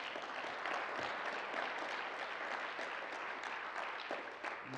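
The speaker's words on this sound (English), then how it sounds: "Y'all ought to clap on that." Audience applause at a sustainability and stewardship conference, dense and steady for about five seconds, easing slightly near the end, with no voices over it.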